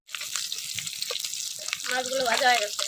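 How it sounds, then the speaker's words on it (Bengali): Fish frying in oil in a home kitchen pan, a steady bubbling sizzle that grows louder toward the end, with a few clatters and kitchen noises early on and no one speaking. "আর মাছগুলো ভেজে নেবো এবার হ্যাঁ ওই মাছগুলো ভেজে নেবো"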